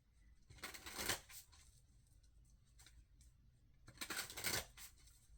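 A Voice of the Souls oracle card deck is shuffled in two quick riffling bursts separated by a quiet pause, close and soft, with no talking.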